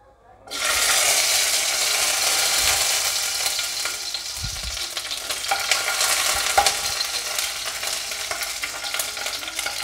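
Ginger, two green chillies and chopped tomato sautéing in a pan for a paneer curry made without onion or garlic; a loud, steady sizzle begins after half a second and continues with occasional stirring scrapes and clinks, without talk.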